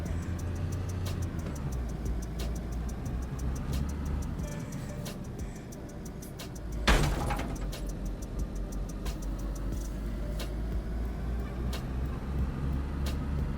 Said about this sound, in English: I did just hit that wall and the car is still actually driving